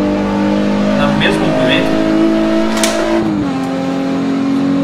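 A race car accelerating in a racing video game, its engine a steady droning whine that climbs and then drops in pitch, with someone talking over it throughout.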